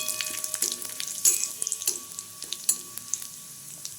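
Whole cumin seeds sizzle and crackle in hot oil for a ridge gourd masoor dal, a steady close frying hiss dotted with sharp pops and spits.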